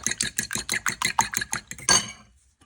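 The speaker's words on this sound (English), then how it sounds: "Now we're going to mix it up" Egg whites are beaten in a bowl for a desi-style vegetable omelet, with a quick, even run of utensil clinks against the bowl that ends in a final clatter and then silence.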